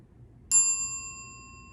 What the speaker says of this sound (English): There we have the reminder